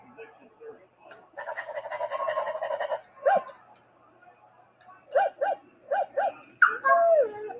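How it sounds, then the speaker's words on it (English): A toy makes dog sounds during a live football broadcast of 49ers versus Seahawks: a string of short squeaky yips and whimpers, close and fairly loud, after a longer whining stretch, with a voice nearby. "You also have toys that make dog sounds?"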